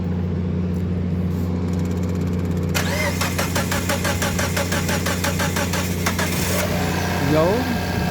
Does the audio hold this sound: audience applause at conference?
no